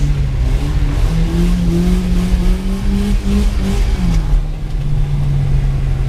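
A BMW E36 drift car's engine revs hard and holds a strained, rising and falling drone, close and loud, with tyre and exhaust roar underneath and no voices.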